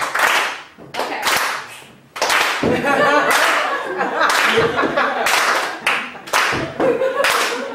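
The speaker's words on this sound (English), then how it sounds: "Y'all gotta give me a little clap." Scattered audience clapping in bursts at a live stand-up comedy show, mixed with laughter and someone talking over it, fairly close and lively.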